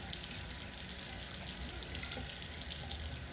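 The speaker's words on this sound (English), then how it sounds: "So I'm gonna add a little bit more water to mine." Tap water runs steadily into a sink during a skincare routine, a soft continuous hiss and patter at low level with no talk.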